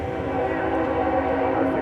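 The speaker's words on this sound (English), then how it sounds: "We got the train coming." A train horn blares in a short sustained blast, a loud chord of tones over low rumbling.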